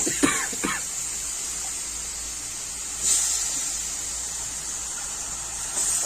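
Chicken pieces dropped into a hot pan for a chicken gravy give a steady close sizzle and hiss that swells briefly twice, with no talking.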